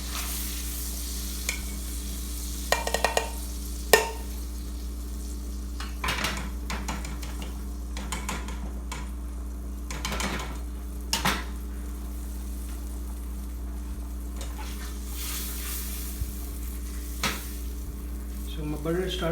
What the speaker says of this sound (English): So my butter started to brown